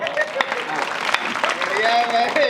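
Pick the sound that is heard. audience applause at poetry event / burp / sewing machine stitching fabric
audience applause at poetry event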